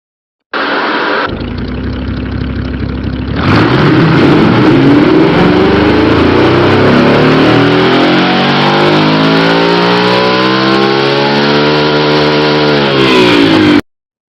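Turbocharged car engine in the Automation game revved on a test run, a loud buzzy idle that jumps to a sustained high-rpm wail with rising and falling harmonics, heard alone for over ten seconds.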